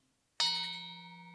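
The bottom note of a Balinese gamelan metallophone struck once, bright attack with a shimmering overtone cluster, then a steady low tone ringing on and slowly fading.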